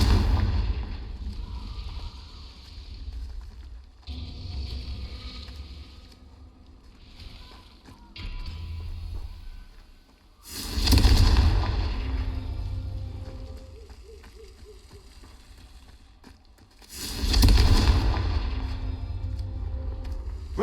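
Confringo blasting-spell explosions in Hogwarts Legacy, two loud booming bursts with low rumble set against a steady game ambience and a quieter earlier stretch.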